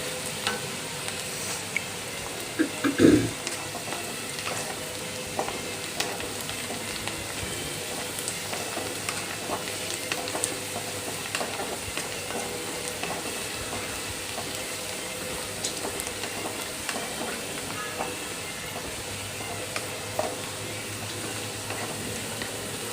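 Pirandai and red chillies fry in oil, giving a steady, close sizzle that runs without a break, with one brief stirring clunk near the start.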